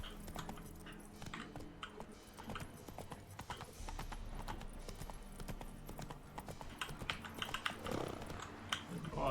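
Roach, a horse in The Witcher 3, gallops over rough terrain with a steady clip-clop of hooves under game music and ambient sound, fairly quiet throughout.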